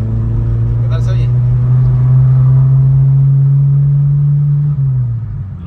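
A car engine fitted with exhaust headers idles and revs steadily close by, a strong droning hum that holds then drops slightly near the end, with a voice heard briefly over it.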